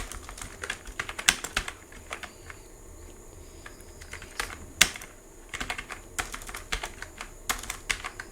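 A student's name is entered on a computer keyboard: close, crisp key clicks come in quick bursts separated by brief pauses.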